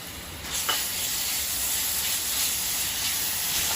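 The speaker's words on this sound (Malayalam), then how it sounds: "ഇതെല്ലാം കൂടെ നന്നായിട്ട് നമുക്ക് വഴറ്റണം." Crushed green chilli, ginger and garlic sautéing in hot oil give a steady, close hiss and sizzle that holds evenly throughout, with no talking.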